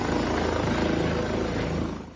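A rescue helicopter ferrying injured skiers from a ski-resort chairlift accident to hospital beats steadily with a dense rotor thump and engine roar, loud and constant, easing slightly at the end.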